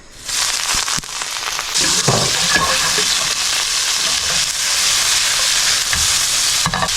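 Seasoned squid hits a hot home-stove pan with a sudden loud burst of sizzling that holds steady and bright, broken by a few stirring clacks, close and without speech.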